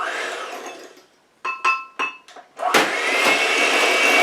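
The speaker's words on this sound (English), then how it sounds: "now we're going to start beating in our sugar a little at a time" An electric mixer beating sugar into a castor oil scrub: the motor winds down to silence, several short bursts of whirring start and stop, then the mixer runs steadily and loudly.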